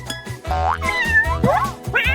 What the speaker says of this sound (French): Quel joli chaton!